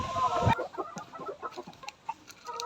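A Gilmore sweater gamefowl chicken gives a series of soft, short clucks up close, following a brief louder burst at the start.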